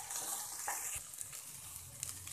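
French beans stir-fried in a pan over a medium-high flame, a steady bright sizzle with occasional stirring scrapes, close and continuous with no voices.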